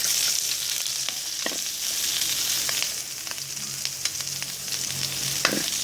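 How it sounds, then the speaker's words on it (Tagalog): Pork and onions sauté in a pan for pinakbet, with a constant close sizzle broken by scattered stirring clicks and scrapes. "nagigisa na po tayo ng ating pork. Lagyan natin yung sibuyas."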